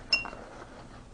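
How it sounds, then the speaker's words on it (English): A single bright clink of glass as cream goes into a glass jar for making butter, followed by faint handling noise in a quiet room. "we're going to put the cream inside this glass jar"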